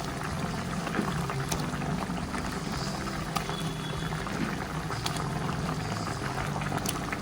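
A pot of lentil dumpling curry boils on the stove, bubbling steadily and thickly up close with occasional sharper pops, and nobody speaks.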